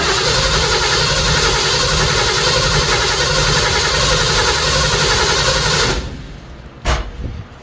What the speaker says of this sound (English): So let's crank her some more and see if we got oil pressure.